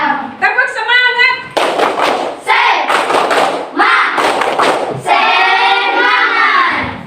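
Schoolchildren in a classroom perform a rhythmic spirit clap, quick group claps and thumps mixed with their chanting voices, loud and close over about seven seconds.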